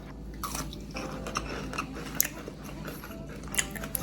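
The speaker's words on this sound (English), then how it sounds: "crunchiness of the fish because of the cornmeal and of course the flour" Biting into a crunchy crappie fillet fried in a cornmeal and flour coating, served with mayo garlic sauce: faint close crunches and chewing repeating over a low background hum.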